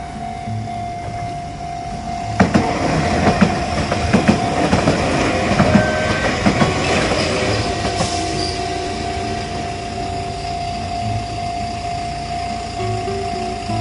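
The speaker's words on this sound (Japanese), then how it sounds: "もうちょっとしたら今度はこっちの藤沢方面にまた1本電車が来るんで" An Enoden electric train bound for Fujisawa passes near Kamakura-Koko-mae on the Enoshima line, rumbling close by with clattering wheels and a sustained metallic squeal, then fading as a steady tone lingers.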